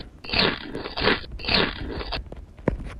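Crunchy biting sounds from eating pizza in a Roblox game come in three loud, regular bursts, followed by a few softer crackles and a sharp click at the end.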